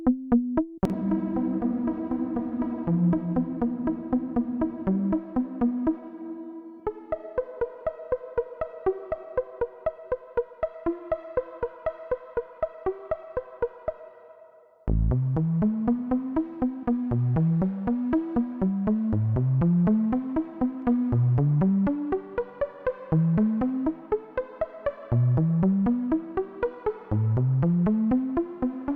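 A plain, simple synth line run through a Denise Audio Perfect Plate XL plate reverb combined with other effects, playing rhythmic repeated notes and plucky descending phrases with a lush tail, steady and alone without any voices.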